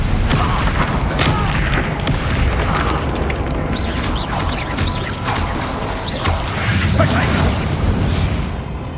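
Combat spells such as Confringo and Bombarda in Hogwarts Legacy, a steady barrage of booms, crashes and pops filling the scene with dense explosive impacts and occasional spoken incantations.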